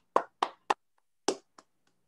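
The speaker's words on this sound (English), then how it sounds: "give him a round of applause" Scattered handclaps from an online audience at a research talk, about five separate claps with irregular gaps, fairly close and quiet, no voices.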